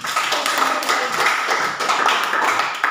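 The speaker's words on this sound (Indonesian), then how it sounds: "Tepuk tangan untuk." Students clapping together in a classroom after a correct answer, a lively, fairly close burst of many hands that continues steadily for a few seconds.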